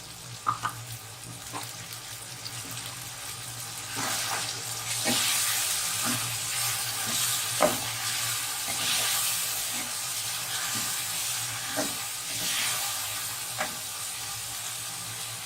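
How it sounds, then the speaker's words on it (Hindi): Yogurt goes into spiced mutton liver frying in a pan, producing a continuous close sizzle that swells slightly after the start, with periodic spoon scrapes and taps, and no talking. "और इसमें मैं दही ऐड कर रही हूँ"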